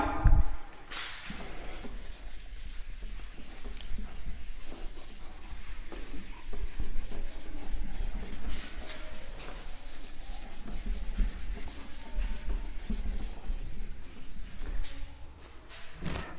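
A felt duster rubs chalk writing off a classroom board during a biology lecture, giving a steady scraping, shuffling swish that runs continuously with occasional soft thumps and no talking.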